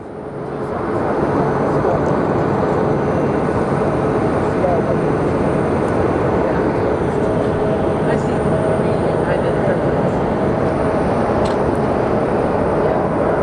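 A Delta airliner departs Phoenix Sky Harbor Airport with a loud, sustained low roar of jet engines that stays steady throughout and fills the whole stretch.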